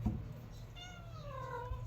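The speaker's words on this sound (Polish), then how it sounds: "Kotek y, coś chce ode mnie." A house cat meows indoors, one drawn-out rising and falling meow that carries over a steady low hum in a quiet room.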